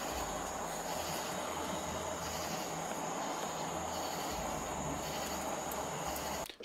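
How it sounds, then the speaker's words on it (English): Cicadas drone in the background outdoors as a continuous, even, high-pitched buzz with a low rumble underneath, steady and moderately faint throughout, with no talking. "Shout out to the cicadas, or as we call them in Spanish, chicharas."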